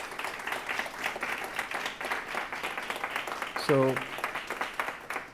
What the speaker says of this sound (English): Please, another round of applause, for Noelle.